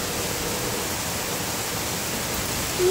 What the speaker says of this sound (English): Look at that downpour right behind me.